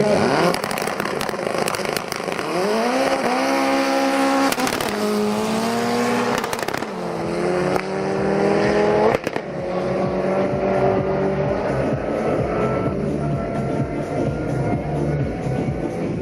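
Rally cars roar off the line together at a rally special stage start, two cars launching as a pair, one a Volkswagen Golf, engines revving hard with rising and falling pitch through gear changes, loud and continuous, with a brief tire squeal.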